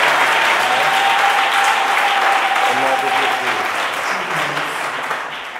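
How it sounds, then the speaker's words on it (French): A congregation at a church gathering in Lubumbashi applauds to greet an apostle, with steady, sustained clapping from many hands that fades slightly toward the end, some voices mixed faintly in the crowd. "Pendant qu'il se tient debout, nous acclamons pour le saluer."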